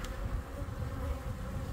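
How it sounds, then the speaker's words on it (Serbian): Honeybees buzz on a hive frame that is being sprayed during varroa mite treatment, a close, steady, low drone from many bees, with no voices. "Ovako imamo, znači, ram sa pčelama"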